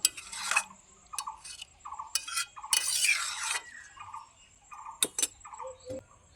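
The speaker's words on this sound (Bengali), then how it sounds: "একটু নেড়ে চেড়ে দেবো।" Soybean do pyaza cooking in a pan with a little sugar just added, stirred by hand: a series of close, uneven scraping and clinking strokes from a spoon against the pan, with short pauses between them.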